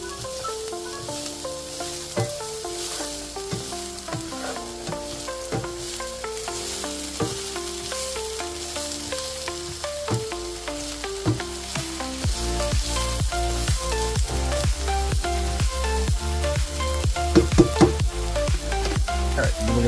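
Short ribs for Korean BBQ sizzle and brown in a hot pan while being stirred, a steady dense frying hiss that swells louder in the later part, with occasional utensil scrapes.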